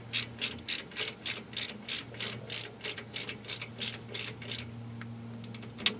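Hand ratchet tightening a 1/2-inch bolt on the rear differential of a 2000 Ford F350 dually, a rapid run of about twenty sharp clicks, close and clear, then stopping.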